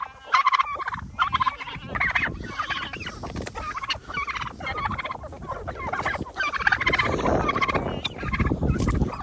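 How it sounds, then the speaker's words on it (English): Turkeys in a backyard flock kept with chickens gobble loudly and repeatedly, overlapping rapid warbling calls close by, with no talking. "You hear how loud these turkeys are?"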